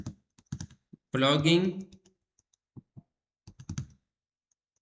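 Clicks of a computer keyboard as text is typed into a PowerPoint title placeholder: short, crisp keystrokes in quick clusters before and after a brief spoken word, close and fairly quiet.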